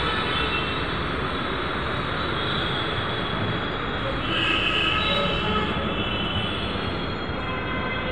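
A metro train rumbles at a station with a dense, steady roar of wheels on rail and a high squeal that swells slightly midway, heard close and continuous.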